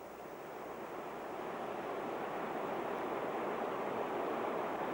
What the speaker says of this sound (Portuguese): esta cachoeira é um paraíso